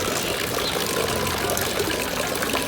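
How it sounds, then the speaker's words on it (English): A fountain in the lakeside town of Neuchâtel pours a small stream of water, a steady close splashing and trickling wash that continues unbroken throughout. "I find fountains quite relaxing with this lovely little stream of water"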